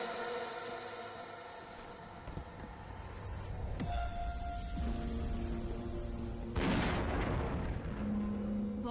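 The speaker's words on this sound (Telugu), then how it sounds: "బాంబు పెట్టి బ్లాస్ట్ చేసావు కదా," A bomb blast in a Telugu film scene, heard as deep booming explosions with dense rumbling debris, the strongest burst arriving late and loud over a continuous dramatic background.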